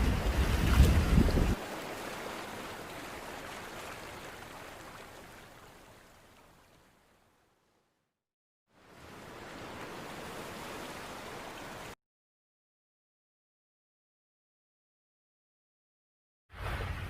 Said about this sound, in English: This is Changi Beach.